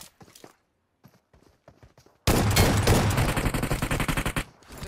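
Rapid gunfire from a video game shotgun bursts in loudly after a couple of seconds of quieter clicks and soft speech-like sounds, then continues as dense, repeated blasts before tapering off.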